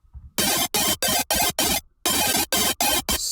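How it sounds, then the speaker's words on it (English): Wide granular synth texture in an electronic remix, sounding as loud, dense bursts chopped into a steady stuttering rhythm with short gaps between them, alone with no voices. "It's like a granular thing."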